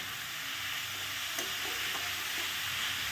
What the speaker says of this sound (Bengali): এটাকে ভালো করে নেড়ে দাও, নেড়ে দিয়ে কী করবে, চাপা দিয়ে দেবে